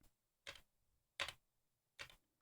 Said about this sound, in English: right now you can hear my keyboard.